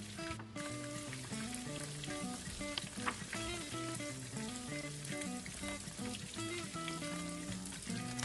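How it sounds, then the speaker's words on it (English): Pork pieces twice-fried in hot oil for sweet and sour pork, a steady soft sizzle and bubbling crackle running evenly throughout, fairly quiet and heard alone under faint background music. "we just repeat the process until all have been twice fried for about 1 minute per batch"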